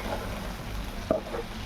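Chillies and crushed peanut powder sautéing in oil in a pan, giving a steady soft sizzle with a single brief scrape of stirring partway through.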